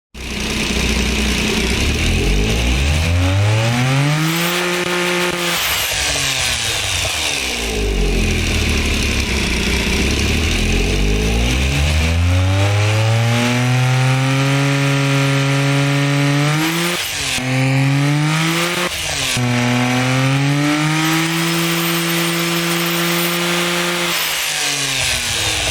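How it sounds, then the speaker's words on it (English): A turbocharged car engine in the game Automation revs up and down repeatedly, pitch climbing high with each run, then dropping sharply between shifts, continuous and close, with turbo lag until about 5,600 RPM. "let's get to hear what this engine sounds like right now."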